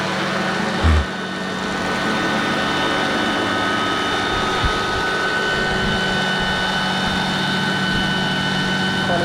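RC MD-500E model helicopter engine at ground idle, a steady high whine with a faint thump near the start, running alone with no talk.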